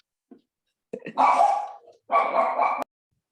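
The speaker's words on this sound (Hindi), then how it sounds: "ये कौन भौंका?" Two loud, harsh bark-like bursts sound close by after a couple of faint short noises, each lasting around half a second against near silence.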